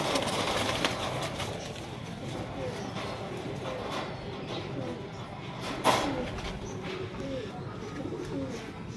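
Teddy pigeons coo in a steady, layered murmur close by, with a brief sharp knock or flutter partway through and faint background noise throughout.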